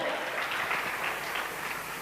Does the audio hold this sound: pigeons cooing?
no